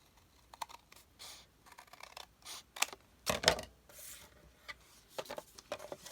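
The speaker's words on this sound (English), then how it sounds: "I'm going to take it and just cut a sliver off" A blade cuts a thin sliver off paper for a mini folio, heard as short scratchy scraping strokes and taps close by, irregular and fairly quiet.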